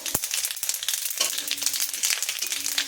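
Dried red chillies, bay leaf and five-spice seeds fry in hot oil for a vegetarian cabbage dish, giving a steady, close, crackling sizzle with a few sharp pops near the start.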